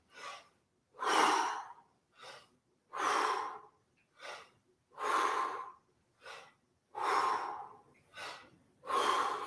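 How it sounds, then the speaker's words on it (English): Forceful breaths during breath squats in a vocal workout, about ten loud rhythmic exhales alternating long and short, close to the mic with brief silences between. "10 more breath squats. Here we go. Feet, exhale first, and squatting."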